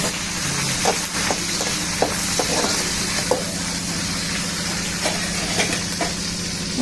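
Onions, curry leaves and green chillies frying in a pan for a chicken curry to go with ragi mudde: a loud, steady sizzle with scattered clicks of stirring, close and continuous, with no talking.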